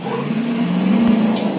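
A car engine hums and revs briefly in a driving video game featuring the character Trevor, played on a TV, a short steady motor tone with no talk.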